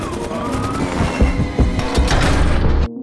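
A helicopter crashes and explodes in a zombie film, heard as loud, dense booming impacts with crashing debris and rumbling, several heavy thuds peaking midway before the sound cuts off abruptly near the end.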